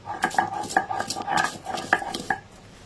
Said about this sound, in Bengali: এবার এটাকে আমি বেটে নেব, একদম মচমচে করে ভেজে নিয়েছি।